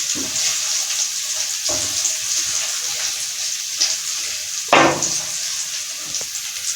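Steady sizzling of ginger and chili frying in hot oil for dhaba-style mash daal, with occasional louder scraping and stirring bursts in the pan.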